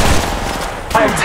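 Rapid gunfire in the mobile battle royale game Apex Legends Mobile, a loud continuous burst of shots with a game character's voice calling out over it.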